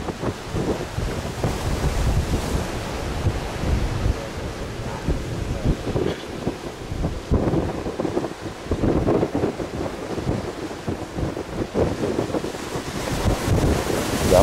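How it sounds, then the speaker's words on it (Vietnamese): Strong wind buffets the microphone while large sea waves crash at the La Gi harbor mouth aboard a heeling fishing boat, a constant loud roar with surging gusts and wash throughout. "gió và sóng rất là lớn các bạn ơi"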